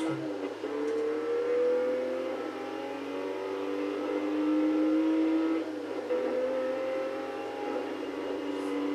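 Porsche RTurbo engine in Test Drive Unlimited 2 cruising around Ibiza, a steady moderate drone with rising and falling pitch as gears shift, fairly quiet and continuous throughout.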